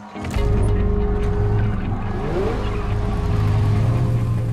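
A Plymouth Barracuda stunt car with a fuel-injected engine roars loudly right up close, revving hard and holding a deep, steady drone with a brief pitch sweep midway.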